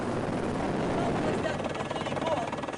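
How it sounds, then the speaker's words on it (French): Helicopter carrying a doctor and nurse up to a hard-to-reach mountain pass, its rotor and engine making a steady, dense roar that fills the whole stretch without a break. "C'est en hélicoptère que le médecin et l'infirmier sont transférés au poste de secours."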